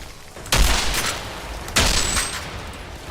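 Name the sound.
armor-piercing explosive bullets firing, video game Outriders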